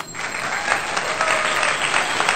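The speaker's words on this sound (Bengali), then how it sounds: "সবাই হাততালি দাও।" A group of people claps during a Kali Puja and Diwali celebration, producing continuous, fairly loud applause that stays steady from start to finish, with no clear speech over it.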